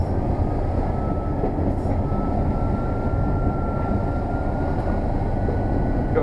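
A Class 37 diesel locomotive heard from inside the cab on the Epping Ongar Railway, a loud, constant engine drone and rumble with no talk.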